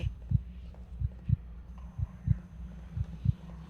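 A heartbeat thumps in a horror video game, a low, close double-beat repeating steadily about once per second, alone without talk.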